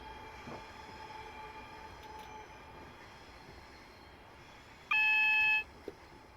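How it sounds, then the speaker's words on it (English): A train runs downhill on the Portsmouth Direct Line approaching Portsmouth Harbour, a faint, steady rolling rumble with a short electronic beep sounding near the end. "so this train now wants to speed up"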